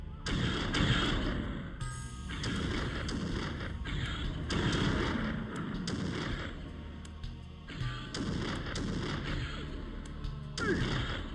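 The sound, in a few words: explosions in the video game Blood Omen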